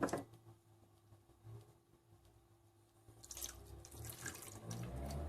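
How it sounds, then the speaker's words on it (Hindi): Water poured from a cup into a cooking pot with a plate set on top, a steady splashing stream that builds after a quiet start and grows louder toward the end, with no talking over it. "देखें 2 कप इसमें पानी डाल दिए"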